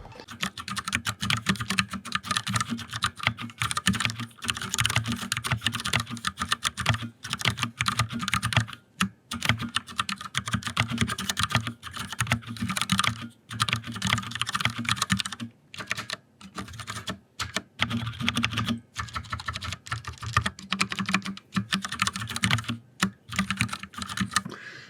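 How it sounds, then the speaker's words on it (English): Continuous fast typing on a Ducky One 2 mechanical keyboard, dense close-up key clacks in an uneven rhythm with a few brief pauses, heard alone without voices. "I'm going to do a little bit of a typing test for you really quick."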